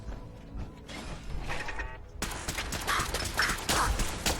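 A door opening in the video game Fallout 4, heard as a mechanical creaking and grinding that swells into a louder clattering rumble midway, with faint background sound throughout.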